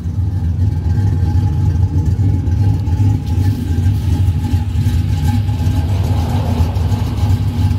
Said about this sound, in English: Alright, so it's idling now.